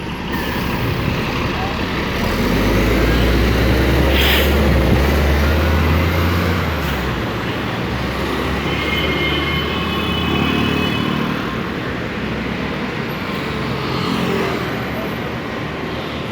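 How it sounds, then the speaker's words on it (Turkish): A bus comes along a street, its deep engine rumble swelling loud and close for a few seconds before easing into steady traffic noise, with other vehicles droning behind. "bu arada otobüs geliyor"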